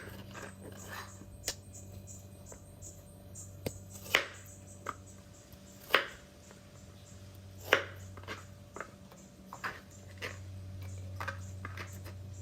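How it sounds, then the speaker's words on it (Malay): Onions being chopped with a knife into small pieces, a sparse series of crisp, distinct knocks on a board at irregular intervals, close by and fairly quiet over a low steady hum. "kita akan potong dahulu bawang ni"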